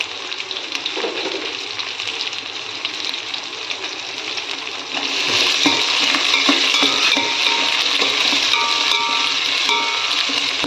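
Onions sautéing in a pan alongside carrots, beans and tomatoes for brinji rice, a steady close sizzle with scraping stir noises that grows louder and busier about halfway through.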